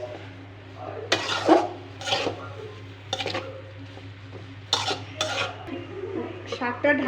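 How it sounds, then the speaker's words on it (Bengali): Greens being stirred in a pan after a sprinkle of salt: intermittent metal spatula scrapes and clanks against the pan in short bursts over a steady low hum, close up, without speech. "শাক কিছুক্ষণ নেড়ে চেড়ে"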